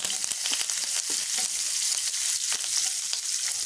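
Chopped onions fry in a pan with curry leaves, a steady broadband sizzle with occasional stirring clicks, close and fairly loud, no voices.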